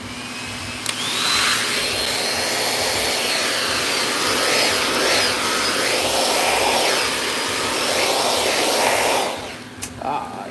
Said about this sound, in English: I'm finna shrink wrap, so it's gonna be loud. I'm gonna blow dry.